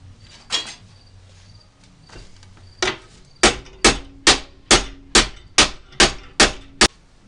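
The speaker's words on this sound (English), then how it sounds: "I bend it over by leaning on it and hammering it into shape." Sheet metal clamped between two pieces of angle iron is hammered over into shape: a few scattered blows, then a steady run of about ten sharp, evenly spaced ringing strikes, close and loud.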